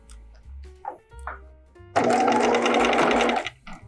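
A sewing machine stitches a narrow zigzag seam on a dress with gathers, running as one loud, fast, buzzing burst of about a second and a half after a few soft handling sounds and brief short whirs.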